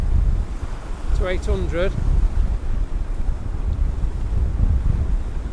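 Rough sea and gusting wind on the Orkney coast, a continuous broadband roar with wind buffeting the microphone throughout, a brief burst of talk rising over it near the start.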